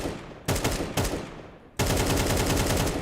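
Counter-Strike 2 AK rifle fire: a loud burst of rapid automatic shots, a second burst after a short pause, then sustained continuous gunfire, close and dense.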